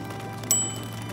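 A child's tricycle bell gives one short, bright ring partway through, then fades against a steady low background.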